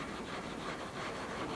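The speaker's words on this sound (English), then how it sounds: "I've just ran over it with some steel wool just to take the shine off, like so." Steel wool scrubbing over freshly painted metal on a Holden Torana cowl rust repair, a steady dry abrasive rasp, close and fairly quiet, continuous with no talking.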